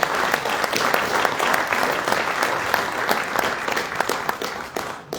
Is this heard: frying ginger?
no